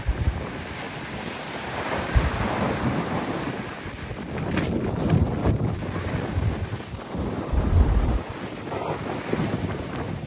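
Blizzard wind in the Murmansk region of Russia, a loud continuous roar and buffeting of gusts thumping against the microphone, steady throughout with surging peaks and no voices.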